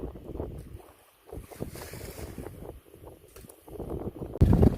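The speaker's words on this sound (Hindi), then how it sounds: "मौजे हैं, मौजे हवा चल रही है ठीक ठाक" Wind gusts across open water with waves lapping, loud buffeting bursts against the microphone rising and falling over a few seconds, ending in a sharp rumbling gust.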